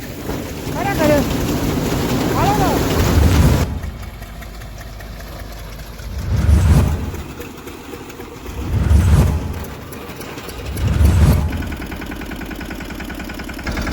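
A mini tractor pulling an opener implement runs on a farm, its engine a low, close rumble that swells in slow, regular surges. Wind buffets the microphone throughout.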